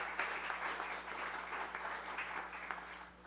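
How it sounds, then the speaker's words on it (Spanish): Audience applause at a book presentation at Casa de las Américas, a faint, steady patter of many hands clapping, heard alone with a low background hum. "Un aplauso para él."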